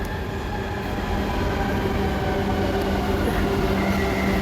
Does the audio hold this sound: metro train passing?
yes